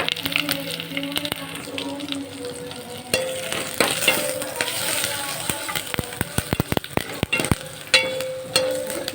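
Coarsely crushed pepper and cardamom sizzle in a frying pan for mutton paya soup, a continuous crackling fry broken by sharp clicks and scrapes of stirring.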